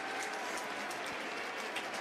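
A baseball crowd at Citi Field applauding, a steady dense wash of clapping and cheering heard from a distance at fairly low level, unbroken throughout.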